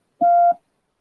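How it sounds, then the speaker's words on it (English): Morse code practice tone sounding one short dit and one longer dah in a single steady, clean beep of about a third of a second, alone with no talk. "Right, that's a dit dar."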